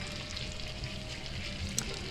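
Feral hog meat searing in hot oil in a pan, a steady dense sizzle and crackle throughout with one brief sharper pop near the end.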